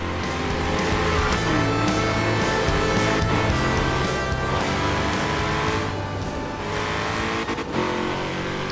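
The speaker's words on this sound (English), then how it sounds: "If you listen carefully, you can hear the supercharger whining like a beep." A supercharged American muscle car in Forza Horizon 3 driving hard, loud continuous engine roar with revving and shifting, a thin high supercharger whine running through it, with a brief tire squeal; no voices.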